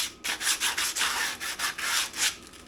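Sandpaper rubs the handbrake shoes of a Mercedes W203 in about eleven quick, rhythmic back-and-forth strokes, close and steady, with no talking.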